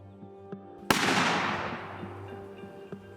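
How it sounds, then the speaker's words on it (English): A single sharp gunshot cracks out in rural Japan, fired at a bear, followed by a long decaying echo across the countryside; a few faint knocks come before and after. "In rural Japan, a gunshot rings out."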